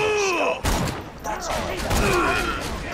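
Sniper rifle shots ring out in the Borderlands video game, a loud boom followed by several more reports amid game effects and a voice, with a heavy, echoing gunfire texture.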